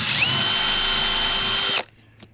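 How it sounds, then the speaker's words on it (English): A power drill pre-drilling screw holes for an outdoor faucet whines steadily at high speed for nearly two seconds, then stops abruptly, leaving a faint click or two. "next I am going to pre-drill the holes"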